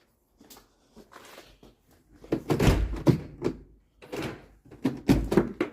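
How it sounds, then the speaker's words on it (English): A Land Rover Discovery 2 Td5's rear door is unlocked and opened, giving a few soft clicks followed by a series of louder, close thunks and rattles from the latch and door. "this back door ain't open, so we're going to have to double unlock it"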